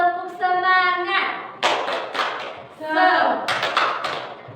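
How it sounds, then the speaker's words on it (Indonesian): Class of children doing a rhythmic spirit clap in a classroom, with sharp bursts of clapping that alternate with voices chanting together in unison, all close and lively. "Tepuk semangat."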